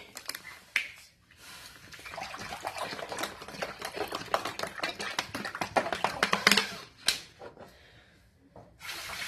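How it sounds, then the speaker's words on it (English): Water pours into a pan for rice pudding, a close, uneven splashing and trickling with a few short pauses and clatters toward the end. "we're gonna add in 3 cups of water into our pan bowl here"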